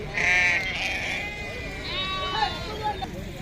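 Sheep bleat repeatedly at the busy Pebbair sheep market, several wavering cries near and farther off over a steady crowd murmur and babble.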